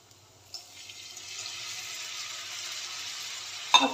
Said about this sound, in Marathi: ह्याच्यात आता अगदी थोडंसं पाणी ॲड करणार आहे मी